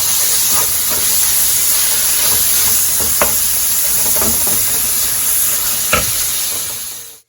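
Ground beef browning in a pan for beef stroganoff gives a loud, steady, hissing sizzle. Occasional utensil scrapes and taps come through during stirring, and the sizzle fades out at the end without any talking.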